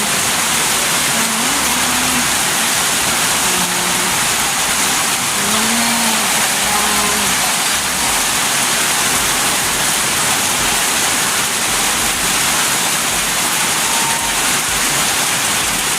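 Steady, dense hiss of heavy rain pours down without a break, with faint low sounds occasionally surfacing beneath the constant wash.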